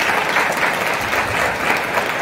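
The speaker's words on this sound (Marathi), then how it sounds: "एकदा जोरदार टाळ्या वाजवत आपण शाळेमध्ये" Audience at a city-level school reading competition claps in a steady, dense burst of applause that stays even and fairly loud throughout, with no voices on top.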